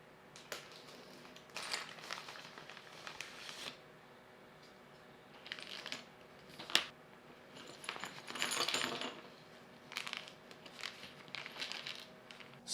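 Plastic bag of RC sprint car kit parts being opened and handled: soft crinkling, rustling and small plastic parts clicking and clattering in irregular bursts, close and quiet, with no talking.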